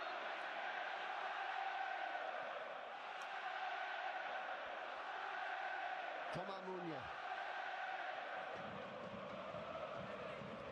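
Football crowd at a Lille vs Aston Villa European match, keeping up a continuous broad roar and cheer throughout, with a commentator's voice and a brief call heard over it.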